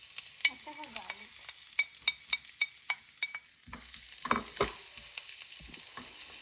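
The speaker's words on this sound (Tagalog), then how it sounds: "Stir-fry lang natin siya hanggang maging translucent ang ating onion at garlic" Onion and garlic stir-fried in a home-kitchen pan, a soft sizzle carried by a string of sharp spatula scrapes and clinks against the pan, fairly quiet and close, with no voices.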